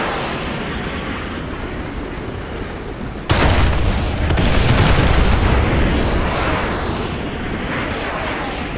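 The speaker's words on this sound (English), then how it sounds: "Fire mission received. Artillery inbound." Artillery strike explosions in Call of Duty Modern Warfare 2 hit hard with a sudden loud blast, then a heavy rumbling roar that swells and slowly fades over several seconds.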